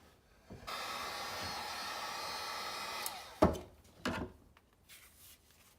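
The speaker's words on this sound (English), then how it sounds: "what we're going to use is a heat gun to heat this thing up" A heat gun blows a steady, hissing stream of hot air onto a part in a sandblast cabinet water trap for about three seconds, followed by a few sharp knocks and rustles nearby.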